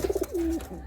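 In a loft holding Madrasi and Andhra pigeons, a pigeon coos close by: a quick series of four short pulses, then one drawn-out coo, all within a second.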